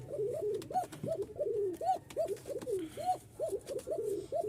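Pigeons kept by a Bangladeshi pigeon dealer coo close by in a steady, rapid series of about a dozen rising-and-falling calls, each bending up and down in pitch. The cooing is alone, with no one talking over it.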